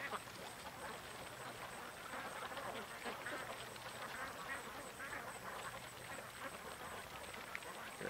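Ducks quacking at a lake, a dense, continuous chorus of calls from a flock, heard over steady outdoor background noise with faint speech.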